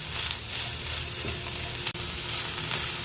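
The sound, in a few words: stirring steamed broccoli florets with salt in a pan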